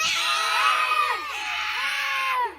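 A group of children at a swimming pool scream excitedly together, a loud sustained chorus of high shrieking voices lasting a couple of seconds before cutting off.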